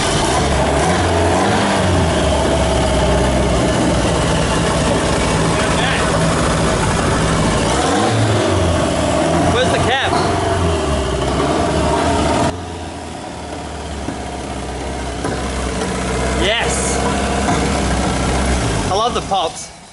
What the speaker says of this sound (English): It's fluttering, so we know that there's boost there.